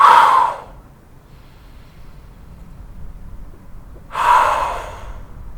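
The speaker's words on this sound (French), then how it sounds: "Inspirez lentement. Soufflez." Two slow, loud, close breaths during a lower-back stretching and toning exercise, a long breath at the start and another about four seconds later, quiet in between.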